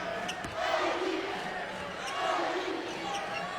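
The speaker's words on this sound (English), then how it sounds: "so the crowd cheers." Crowd in a college basketball arena during an SIUE versus Indiana game roars and cheers in swelling waves, under a commentator's voice.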